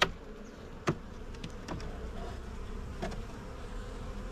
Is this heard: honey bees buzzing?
yes